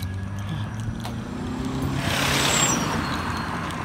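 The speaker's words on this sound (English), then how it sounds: "I gotta watch these cars that I'm recording." Road traffic with a vehicle engine humming nearby, swelling as a car passes close midway, then easing off, steady background roar throughout.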